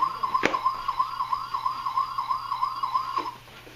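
A toy police car and station sounds its siren, a steady warbling electronic wail repeating quickly for about three seconds before cutting off, loud and close with no talking.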